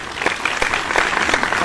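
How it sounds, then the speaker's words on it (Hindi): Loud, dense applause from an audience at a Buddhist community question-and-answer forum in a vihar, steady clapping throughout with occasional sharper claps and no voices on top. "जरा जोरदार तालियां दीजिएगा"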